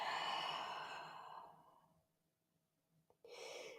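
A long, audible exhale during a yoga session, close and breathy, fading to near silence before a short sound and another breath begin.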